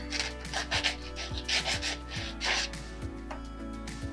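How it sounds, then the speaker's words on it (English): Sandpaper rubbing the end of a small handmade miniature shovel, a quiet, steady rasping in short repeated strokes at close range with no voices. "And then sand off the end to kind of round it out."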